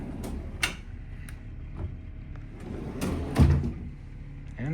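A drawer in an Embassy Suites hotel room in downtown Tampa slides open with a soft wooden knock and a short rumble, followed by a firmer thump near the end, over low room hum.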